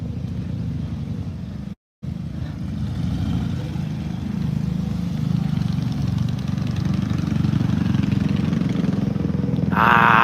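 Motorcycles ride past on a road on Shodoshima island, a steady engine drone that holds loud for most of the stretch after a brief cutout, rising slightly toward the end.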